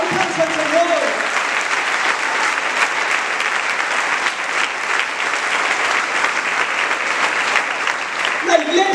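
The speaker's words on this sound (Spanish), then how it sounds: "¡Dale un aplauso al Señor!" A large church congregation applauds loudly and continuously, thick clapping that keeps going for several seconds, with a Spanish-speaking voice briefly audible at the start and end.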